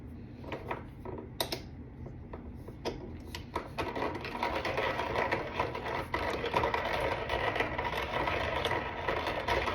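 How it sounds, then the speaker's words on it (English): A coffee grinder grinds beans coarse for cold brew. After a few clicks and rattles, a steady, close, gritty mechanical whir builds and runs continuously. "I'm going to get started on grinding"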